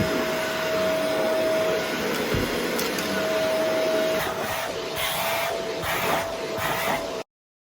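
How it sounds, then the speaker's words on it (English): A vacuum cleaner runs on the floor with a loud constant roar and a high whine, its tone shifting as it is pushed around before cutting off abruptly. "I now need to vacuum the floor."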